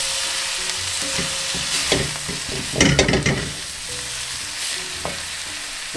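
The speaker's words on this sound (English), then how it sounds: "We're going to give that another stir through." Curried duck frying in a pan while being stirred, a loud, dense sizzle with a burst of scraping and clattering in the middle, close and without speech.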